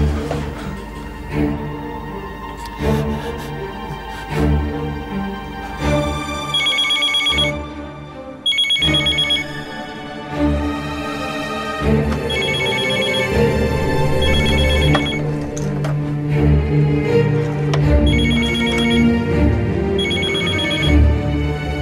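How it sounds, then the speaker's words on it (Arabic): A telephone rings over and over in a TV drama scene, bursts of electronic ringing repeating under a dramatic music score that swells throughout. "يلا نرمين ردي على التليفون، ردي"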